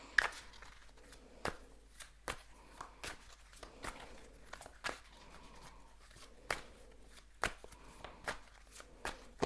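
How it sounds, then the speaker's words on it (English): Tarot cards are shuffled by hand close up, a series of sharp riffling slaps and soft rustles in an irregular rhythm against a quiet room. "I'm gonna shuffle and see if there's any more"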